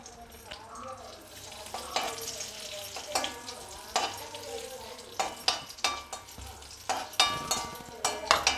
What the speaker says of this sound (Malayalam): കിസ്മിസ് ആദ്യം വറുത്ത് കോരി മാറ്റണം